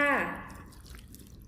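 Water is poured out by hand into a small model flood barrier, a short splashing pour that fades over about a second.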